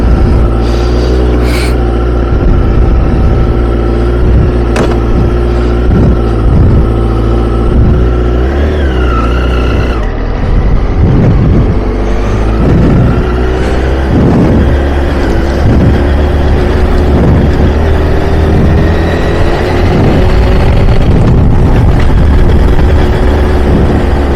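A Honda CBR1000RR Fireblade motorcycle on the road, its engine droning loud and steady close to the rider with faint pitch shifts throughout, and no talking.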